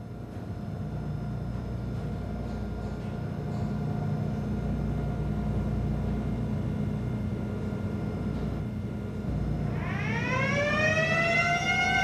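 Ship engine-room machinery alarm sounding, a loud rising wail that begins near the end over a steady low drone of running machinery.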